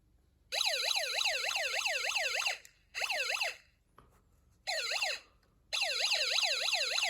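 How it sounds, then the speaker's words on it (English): A loud electronic toy siren from a Snap Circuits electronics kit wails in rapid up-and-down sweeps, cutting on and off in four bursts with short silent gaps. "The siren goes off, even though the jumper wires are not touching each other or my fingers."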